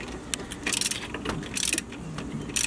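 Two socket wrenches turning against each other to loosen a 14 bolt during installation of a GrimmSpeed pitch stop mount on a car, quick bursts of metallic ratcheting clicks, close and without speech.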